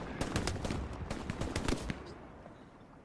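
Rapid bursts of automatic and rifle gunfire in a Hell Let Loose 18v18 match, loud and dense with repeated sharp cracks for about two seconds before trailing off into distant background.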